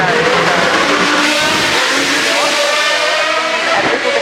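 A Formula 1 car driven by Sergio Perez climbs the Goodwood Festival of Speed hill at the 2024 event, its high engine whine rising steadily under crowd noise and an announcer's commentary.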